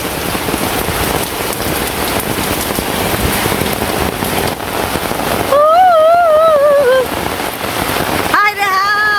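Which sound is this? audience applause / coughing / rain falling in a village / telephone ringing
rain falling in a village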